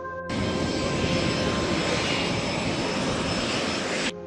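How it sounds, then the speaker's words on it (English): A Nigerian fighter jet flying over the skies of Gambia, a loud continuous roaring engine rush that starts abruptly, holds steady and broad for about four seconds, then cuts off, with no voices. "could hear the sound of Nigerian fighter jet hovering the skies of Gambia"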